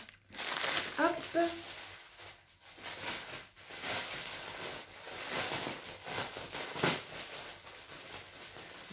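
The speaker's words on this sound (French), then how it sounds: "j'aime pas le papier froissé comme ça" Paper packaging crumples and crinkles during an unboxing of a cat-themed item, with irregular rustling bursts close to the microphone and brief talk in between.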